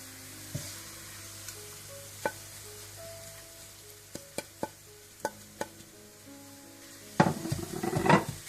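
Onions browning in a pot for degi chicken biryani, with a steady low sizzle under several sharp spoon knocks and stirring scrapes, growing into a louder burst of frying near the end.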